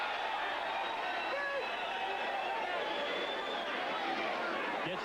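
A crowd at a women's professional boxing bout between Kathy Long and Sandra Yard keeps up a steady roar and murmur throughout, broad and continuous with no distinct peaks.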